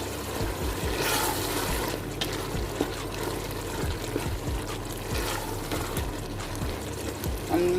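Water poured into a pot of black chana, a steady trickle and splash running close by with small clinks from the pot.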